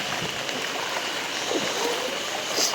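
Floodwater rushes fast through flooded paddy fields in Nandavil, Jaffna, a steady, full gushing and gurgling flow close by, continuous and without speech.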